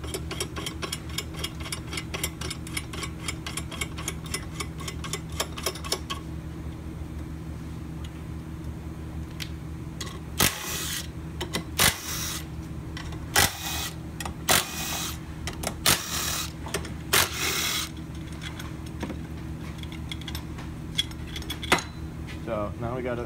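Tool clicks and ratcheting on an OSP Sidewinder clutch spring compressor as the nut is snugged down, a rapid ticking run followed by sharp metallic clicks and clinks, close up, with someone talking.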